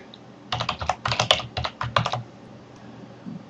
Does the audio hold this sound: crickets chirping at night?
no